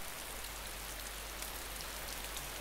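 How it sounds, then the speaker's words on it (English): Strong rain in the game DayZ, a steady, dense hiss of drops drumming on surfaces, continuous and even in level with no gaps, alone without voices. "The rain is so strong."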